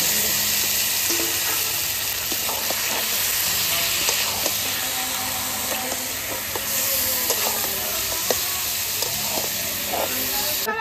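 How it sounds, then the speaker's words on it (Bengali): Goat meat frying in a spiced masala, a steady loud sizzle and hiss with stirring clatter throughout, close up and without talk. "এবার মাংসটা দিয়ে দেবো। আমি মশলাটা বেশি কষাবো না, মাংস দিয়ে মশলা কষানো হবে ভালো।"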